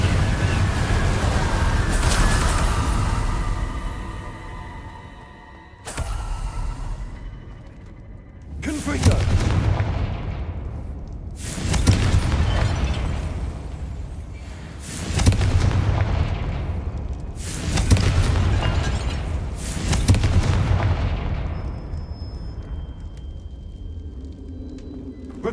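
Spell blasts cast one after another in Hogwarts Legacy, a series of about six loud booming bursts with crackling tails, each fading before the next, over a steady low rumble of game ambience.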